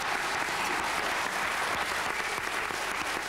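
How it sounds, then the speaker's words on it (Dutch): A studio audience at a Flemish television quiz show applauds in a dense, steady wash of clapping that holds at the same level throughout, with no voices over it. "En met een geweldig applaus van ons publiek."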